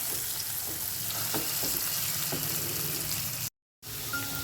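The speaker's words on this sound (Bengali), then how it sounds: "আলুটাকে একটু লাল লাল করে ভেজে নিতে হবে" Potato pieces frying in hot oil give a steady, close crackling sizzle with occasional light clinks, briefly cut by a moment of silence before the frying resumes.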